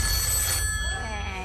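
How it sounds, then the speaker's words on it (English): A telephone rings on a television game show studio set, a short electronic ring heard clearly under studio background noise, with no one speaking over it. "It's a phone."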